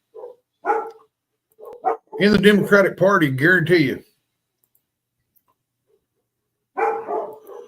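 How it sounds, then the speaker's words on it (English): Dogs bark and yip repeatedly during a tornado warning, a loud, close burst of rapid barking lasting a couple of seconds, with someone talking before and briefly after. "My dogs are freaking out."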